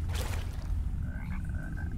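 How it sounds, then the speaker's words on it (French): A large hostile toad croaks in the swamp of the video game Mortal Shell, a close, loud, low rumbling croak over a dense background, with no talking. "Un gros crapaud."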